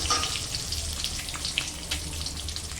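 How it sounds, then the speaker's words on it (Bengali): Egg curry masala with onion, garlic, ginger and chilli fries in a pan with a steady watery sizzle and scattered small crackles, close and continuous. "এখানে সব পেঁয়াজ রসুন আদা লঙ্কা দিয়ে এখন ডিমের মশলাটা হলো যে কষিয়ে নিচ্ছি"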